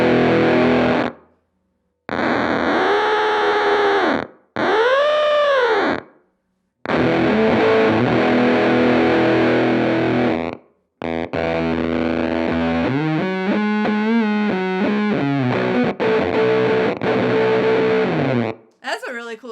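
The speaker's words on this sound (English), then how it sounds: "That's a really cool gated fuzz noise" Gated fuzz from a Chase Bliss and ZVex Bliss Factory pedal: loud, harmonically rich buzzing guitar tones that cut off abruptly into silence, with swooping pitch bends and a sputtering, stuttering stretch later on, played alone.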